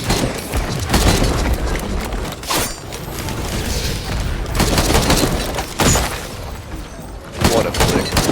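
Explosions and gunfire crack and boom in the video game Risk of Rain, coming in repeated loud bursts over a dense, busy mix of game effects, with a player talking over parts of it.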